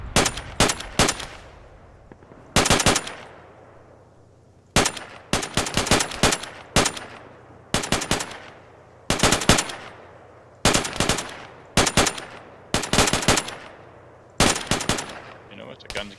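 Video game gunfire in a military mission against Taliban forces: loud bursts of automatic fire repeat in clusters with short gaps between them, the shots sharp and close.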